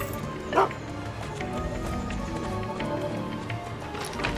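A farm pup named Melon in the Final Fantasy VII Rebirth video game gives a single short bark, partly buried in busy game ambience.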